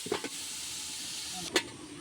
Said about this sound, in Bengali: দেখছেন তো কত সুন্দর ফুটছে